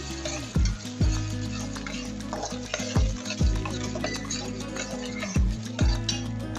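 Chili sauce mixture tempered and stirred in a pan while making a potato snack, with a rhythmic series of sharp utensil knocks against the pan over a continuous frying sizzle.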